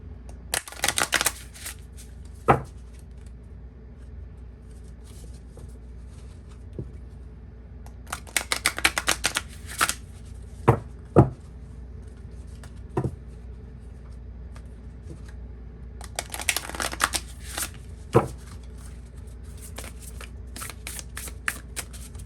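Playing cards being shuffled up close, in two riffling bursts separated by scattered light clicks and taps of cards, with no talking.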